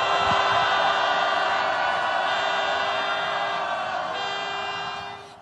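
A large rally crowd outside a Yongsan fire station shouts a sustained cheer for firefighters on command, a dense roar that holds steady for several seconds and slowly fades out.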